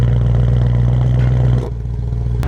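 A BMW E92 M3 V8 idles with its exhaust valves closed, a steady low hum that drops to a quieter drone partway through, close by and alone.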